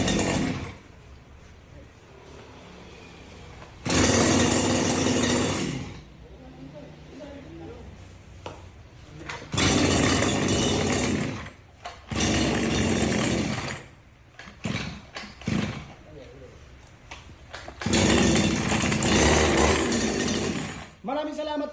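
A CG411 two-stroke grass cutter engine is test-run in repeated loud, buzzing bursts of several seconds each, revving up and dropping to idle between runs, with someone speaking in the quieter gaps.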